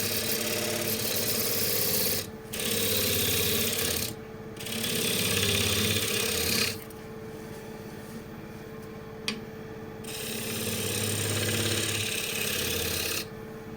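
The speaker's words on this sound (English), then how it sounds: "I like to use the wing of the spindle gouge" A spindle gouge cuts wood on a lathe, its wing shaving a spinning workpiece in a loud, continuous rasping hiss broken by several short pauses as the tool lifts away.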